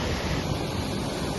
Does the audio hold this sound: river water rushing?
yes